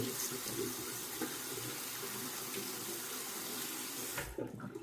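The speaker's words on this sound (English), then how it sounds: "let me just rinse the razor off here" A razor is rinsed under a running bathroom tap, giving a steady hiss of flowing water for several seconds that cuts off abruptly near the end with a brief clatter.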